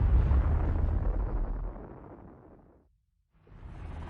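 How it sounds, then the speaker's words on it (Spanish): A hydrogen bomb explosion with a power of about 10 million tons of TNT: a loud, broad roar that rumbles and fades over about three seconds into near silence, then a second rush of noise swells back in. "La potencia de la explosión es similar a la de 10 millones de toneladas de TNT."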